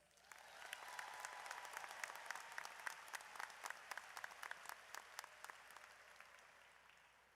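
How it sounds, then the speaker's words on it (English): A room full of people clapping steadily at a college graduation ceremony, swelling in then tapering off over several seconds, moderately distant. "A little spontaneous applause there."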